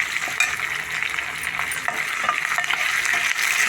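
Mustard seeds, cumin, turmeric, salt, chilli powder and coriander powder frying in hot oil for a curry, giving a steady close crackling sizzle with scattered pops and stirring throughout.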